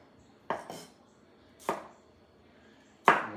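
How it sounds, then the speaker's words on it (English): Bell pepper roughly chopped into little cubes on a cutting board, three separate sharp knife chops about a second apart, close and crisp, each with a short rattling tail, in an otherwise quiet kitchen. "roughly chop it up"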